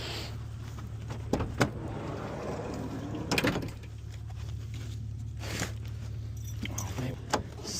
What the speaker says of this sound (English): And then you got a side door over here.